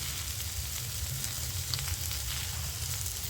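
Spinach-stem vegetables stirred and fried in a pan with salt and turmeric, a continuous close sizzle with faint occasional scrapes of stirring.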